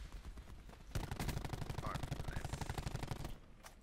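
Rapid automatic gunfire from a video game firefight rattles in a fast, steady burst for a few seconds, with quieter game sounds before and after.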